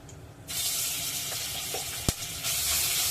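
Ginger garlic paste hits a hot pan with whole spices and bursts into a loud close sizzle that holds steady, with a sharp clink of a spoon midway and no talk.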